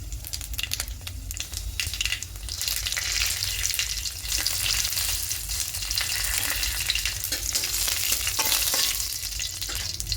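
Dried red chillies spit and sizzle in hot oil for tempering a quick masoor dal with vegetables, a steady, loud, close crackle with stirring scrapes running throughout and no voices.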